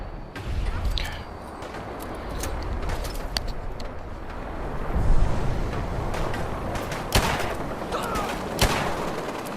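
Gunfire in the video game Fallout 4: a dense battle mix of sharp repeated shots and bursts over a constant rumbling background, with louder cracks standing out near the end.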